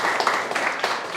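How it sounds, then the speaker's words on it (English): Dense applause from a festival audience, a continuous wash of many hands clapping at moderate loudness with a few sharper claps standing out. "Applause."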